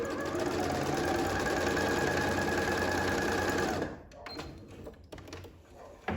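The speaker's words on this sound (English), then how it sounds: "I'm going to sew again." Sewing machine fitted with a twin needle stitching a long straight line, a loud steady whirring run for about four seconds, then it stops and only quieter handling clicks and rustles remain.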